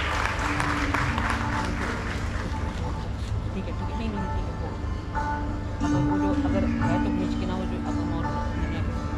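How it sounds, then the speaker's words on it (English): An audience at a school alumni golden jubilee function keeps applauding in a large hall. The clapping is continuous and muffled, blended with crowd noise and talk. "I request the audience to keep applauding."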